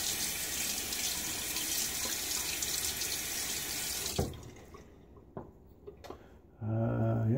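A bathroom faucet runs loudly into the sink while rinsing during a wet shave with an Astra Platinum razor, then cuts off, leaving soft clicks and handling noises before the water flow resumes near the end.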